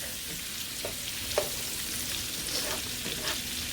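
Asparagus sautés in a skillet with a steady close sizzle and a few soft clicks and scrapes of a spatula.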